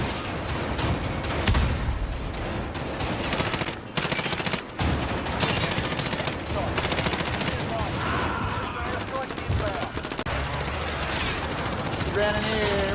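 Rapid gunfire in a Call of Duty Modern Warfare match, including blasts from a 725 shotgun, mixed into dense, continuous game noise with engine and explosion sounds and a player talking over it.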